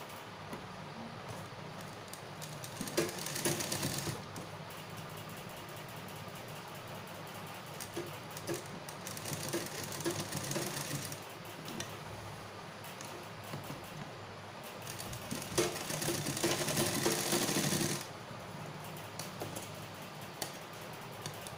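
Sewing machine stitching a waistcoat jawahar cut jacket, with faint rapid ticking and short louder bursts of stitching at a few points against quiet room noise.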